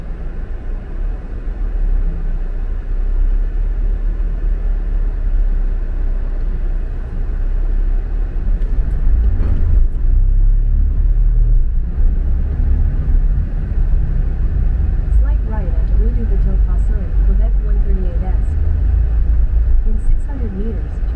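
A car rumbles with a loud, steady, low drone on the vehicle deck below decks of a ferry near Tadoussac, Quebec, while voices talk over it.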